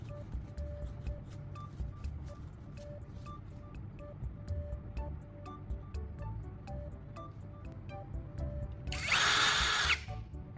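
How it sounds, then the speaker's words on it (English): An electric drill spins a carbon rod against sandpaper in a short, loud grinding burst near the end, after a long stretch of quiet background hum with faint ticking. "I'll then use sandpaper, running the drill against it, to grind the carbon rod down"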